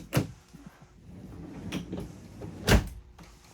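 Pull-out peninsula drawer unit in a used 2015 Jayco Precept 35UN motorhome being pushed closed, giving a few soft knocks and a firmer thump near the end, close by with no talk.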